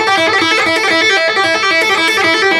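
An electric guitar plays a rock solo phrase at a quicker tempo, with rapid picked notes in a steady run, loud, close and without any voice.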